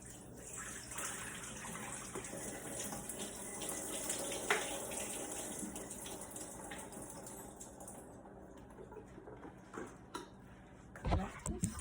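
Water rushes steadily into a sink as a pot of pasta water is poured through a strainer, a continuous splashing pour with a brief clatter near the end.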